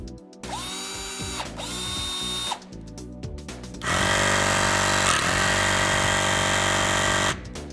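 A Knipex eCrimp electromechanical crimping tool runs in short motorized whirs that rise in pitch, followed by a longer, louder sustained drive cycle, all close up with no voices.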